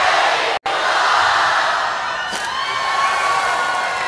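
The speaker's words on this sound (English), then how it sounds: "say 1, 2, 3 and say belly flop" A crowd at a belly flop contest cheers and yells loudly and continuously, with whoops and shouting from close by; no distinct splash stands out.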